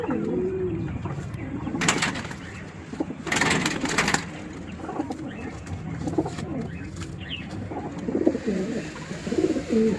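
A haruकुtu pigeon at a pigeon sale in Mallickpara, Ankurhati, coos in low, soft bursts among other birds. Brief rustling and handling noises break in now and then, and the market chatter stays faint in the background.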